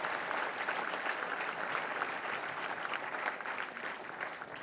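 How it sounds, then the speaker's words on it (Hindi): A seated audience at a National Cadet Corps event gives a sustained round of applause welcoming India's Defence Minister, broad even clapping from a large crowd heard at moderate distance, steady without pauses. "और जोरदार तालियां एक बार माननीय रक्षा"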